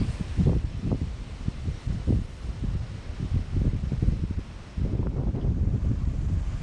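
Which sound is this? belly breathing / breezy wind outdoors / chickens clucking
breezy wind outdoors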